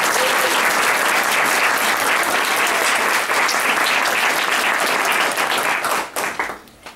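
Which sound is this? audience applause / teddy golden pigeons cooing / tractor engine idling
audience applause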